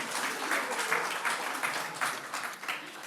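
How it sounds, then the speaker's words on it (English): Audience applause at a solidarity event for Ukraine, a steady wash of clapping from a crowd sustained for the whole stretch at moderate level. "let's have a round of applause"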